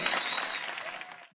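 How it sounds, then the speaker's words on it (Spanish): Audience applause for Yorman Rueda Torres, a Colombian athlete from Zapatoca, Santander who won Pan-American silver: a dense, steady wash of clapping that holds evenly, then stops abruptly. "Un aplauso para Yorma Rueda Torres."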